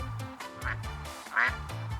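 A duck quacking several times in a row, close and clear, with raspy calls spaced in an uneven rhythm.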